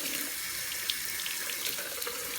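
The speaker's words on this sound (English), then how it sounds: "I'm just going to start off with running the water a little bit hotter than warm" Hot water streams steadily from a tap into a sink, a soft continuous splashing rush with no pauses.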